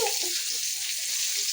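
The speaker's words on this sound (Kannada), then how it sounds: "ನೋಡಿ ಈರುಳ್ಳಿ ಚೆನ್ನಾಗಿ ಫ್ರೈ ಆಗ್ತೈತೆ" Onions with green chillies frying in oil for an egg bhurji, a dense, hissing sizzle held close and steady for a moment, with a faint voice murmuring in the background.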